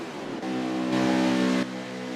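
Race cars roar down the back straightaway of a Las Vegas track, a loud sustained engine drone that swells as cars pass close and then eases, with no voices heard.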